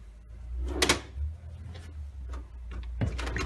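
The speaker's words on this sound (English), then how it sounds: "you can open these drawers with the back of the hand if you've been touching the patient" A storage drawer on a dental unit slides open and shut with plastic clunks and a rolling rattle, two or three distinct bumps up close in a quiet room.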